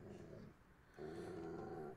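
A dog growls low and steady in an anime fight scene, two sustained rumbling bursts separated by a brief dip, close and fairly loud with no talk over it.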